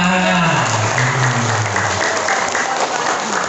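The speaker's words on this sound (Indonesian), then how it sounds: "Tepuk tangan Pak." An audience at a community gathering claps in a steady, full round of applause, with a low voice briefly sounding underneath at the start.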